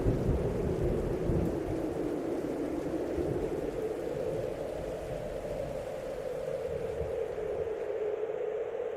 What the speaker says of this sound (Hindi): तूफान उठ खड़ा हुआ है।